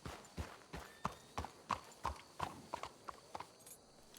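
Horse hooves clip-clop in Red Dead Redemption 2, a steady run of sharp evenly spaced hoofbeats at a walking pace, close and clear, carrying on alone for several seconds.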